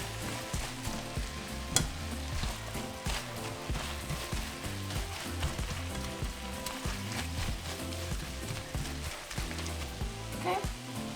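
Seasoned shredded beef for Mexican machaca sizzles steadily in a pan while being stirred, a continuous close frying crackle with soft scraping.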